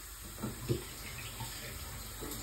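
Food being washed under a running kitchen tap: a faint, steady stream of water with a couple of soft splashes as it is handled, heard from a short distance without talk.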